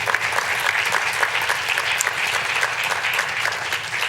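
Audience at a closing plenary of a creative city strategy event breaking into sustained, dense applause that fills the room evenly from start to finish, with no voices over it.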